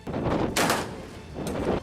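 Bursts of shipboard gunfire ring out during a Chinese naval drill, with a cannon and a machine gun firing from a warship; rapid rattling volleys alternate with sharper booming shots, loud and close.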